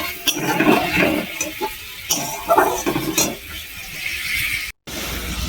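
Masala bread being sautéed in a pan, with a spoon stirring and scraping against the metal over a steady low sizzle. Clattering bursts come and go, with a brief silent gap near the end.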